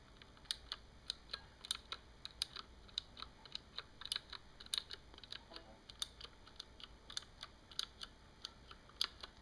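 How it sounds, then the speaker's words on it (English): Close-up typing on a mechanical keyboard with Cherry MX Green and White switches. Sharp, distinct key clicks come in an irregular stream over about nine seconds, quiet but crisp, with no speech. "Every key clicks, as it should, because it's a clicky keyboard."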